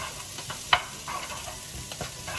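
Asparagus sizzles in a hot pan alongside carrots and garlic, a steady soft frying hiss broken by a few close scrapes and clacks of a utensil stirring, with no voices.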